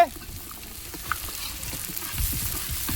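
Chopped onion frying in oil with chilli in a pan for chicken masala, stirred steadily with a broad sizzle and scattered scrapes throughout.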